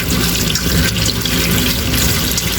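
Tap water gushes steadily and loudly into a sink while tomatoes for sinigang are rinsed, a close, continuous splashing rush with no voices.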